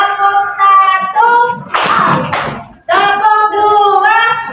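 Children in a classroom chant in rhythmic, sing-song voices, and a short burst of hand clapping breaks in between the chanted phrases.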